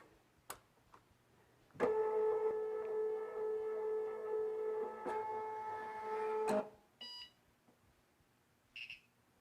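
A Cricut Cake cutting machine switching on: a sharp click, then a steady multi-tone electronic hum for about five seconds that cuts off, followed by a few faint beeps and clicks in a quiet room.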